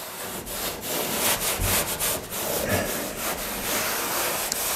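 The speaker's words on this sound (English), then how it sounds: "So wiping my rust stained oil over the paint that I applied adds more effect and makes it look even older." A cloth rubs rust-stained oil over fresh paint on the body of a 1951 Chevy rat truck, making continuous close scuffing and wiping strokes with a few sharper swipes, fairly loud and steady.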